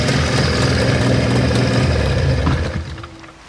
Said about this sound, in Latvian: Tagad es izslēgšu motoru, bet mēģināšu izstāstīt.